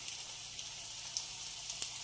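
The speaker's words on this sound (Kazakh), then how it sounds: "Енді майымызды қатты қыздырып, қуыра бастаймыз" Potato rings frying in oil heated very hot in a pan: a steady, faint hiss of sizzling with a few tiny pops, close and continuous with no talking.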